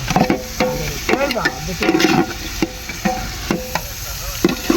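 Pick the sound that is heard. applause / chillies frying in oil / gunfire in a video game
chillies frying in oil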